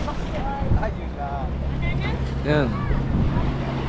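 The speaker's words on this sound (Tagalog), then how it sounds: "Kaya lakas naman hangin tayo." Steady, strong wind buffets the microphone with a low rumble throughout at Mauban Port in Quezon, while people talk over it and birds chirp faintly.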